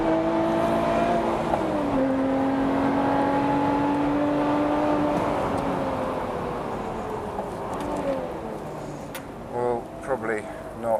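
A Lotus Exige Cup 430 engine drones and shifts pitch at Silverstone on a track day, a steady mechanical whine with gear changes and a few bursts near the end, heard under talk.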